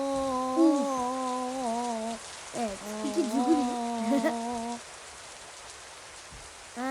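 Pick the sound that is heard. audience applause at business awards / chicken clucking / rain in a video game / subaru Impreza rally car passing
rain in a video game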